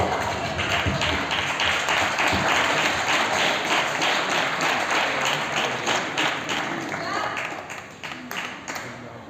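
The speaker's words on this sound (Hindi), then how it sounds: "तालियां बजा रहे हैं और बजाइए ना, मैं भी साथ में बजाऊंगी।" A theatre audience at a women's empowerment play claps in quick, rhythmic unison, loud and sustained, tapering off toward the end, with a voice now and then underneath.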